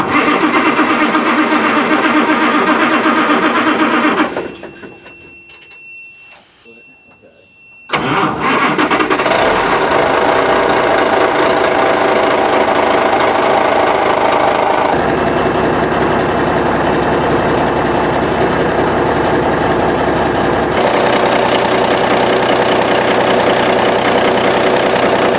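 An army truck's diesel engine cranks and starts, then settles into a loud, steady, rough idle with a few shifts in pitch as the throttle is blipped, heard alone without voices.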